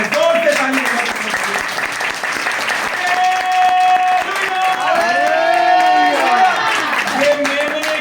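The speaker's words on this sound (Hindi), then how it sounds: "जोर से ताली बजाकर प्रभु की महिमा" A church congregation at a baptism class breaks into loud, sustained applause with a dense, steady clatter of hands, while voices shout and sing along over it for several seconds.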